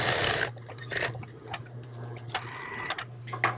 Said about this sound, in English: we're gonna stitch the seam on the side, so about a 1/2 inch seam allowance again